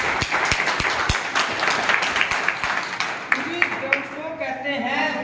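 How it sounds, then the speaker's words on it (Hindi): Audience applause at a program event in a hall, sharp clustered claps over a crowd wash, then thinning out as a voice begins speaking toward the end. "तो मैं चाहूंगा एक बार जोरदार ताली आप सभी अपने लिए, जोरदार।"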